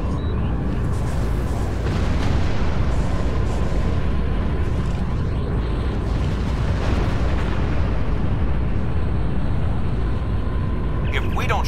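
Rumbling, crackling explosions from a space battle in the Star Trek Online video game, with a continuous dense roar of blasts and booms running through the whole stretch, fairly loud, with no talking.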